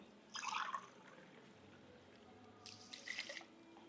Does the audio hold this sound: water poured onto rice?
yes